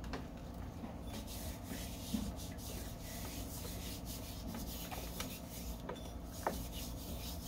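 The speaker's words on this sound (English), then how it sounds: "But make sure when you are rubbing the dirt to always go in this direction." Soft, continuous scratchy rubbing of dirt by hand onto painted faux pottery, with faint irregular scrapes and small taps, quiet and close with no voices.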